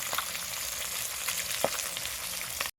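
A pangas fish curry with cauliflower and potato cooks in a black iron wok, a soft continuous sizzle with one brief clink of a utensil, no talking.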